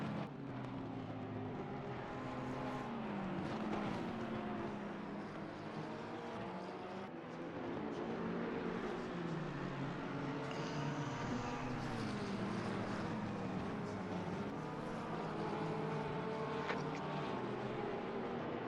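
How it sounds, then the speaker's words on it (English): Sim race cars circling Suzuka in Assetto Corsa Competizione, a McLaren dueling a BMW, their engines droning steadily with shifting, layered pitch as the cars run close together throughout, with no voices over the engine noise. "Soul in his McLaren battling Charlton in that BMW"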